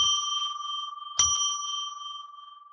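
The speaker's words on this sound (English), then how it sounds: "let's ring the bell 3 times to declare sacred space" A ritual bell is struck to open sacred space on a call-in spiritual show. Two clear bright strikes are heard, each ringing on with a long, steady, shimmering sustain that slowly fades, with no voices.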